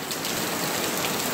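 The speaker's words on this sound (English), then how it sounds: "Well, it's starting to hail." Small hail falling outdoors, a dense, steady patter of tiny pellets striking surfaces nearby, continuous and fairly loud with no voices.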